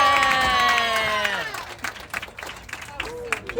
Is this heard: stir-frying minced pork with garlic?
no